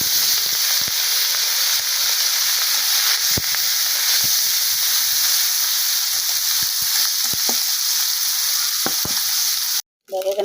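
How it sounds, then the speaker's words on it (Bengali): Small kachki fish frying in a pan in a Bangladeshi village kitchen, giving a steady loud sizzle and hiss with scattered clicks and pops from stirring, then a brief cut near the end. "বলছে কাজকি মাছ ভাজি করার জন্য, তো এখন ভাজি করবো।"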